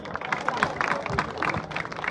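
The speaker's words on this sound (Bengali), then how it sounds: "জোরে একটা করতালি।" Crowd clapping at an outdoor cricket tournament match, a short burst of scattered applause mixed with crowd murmur.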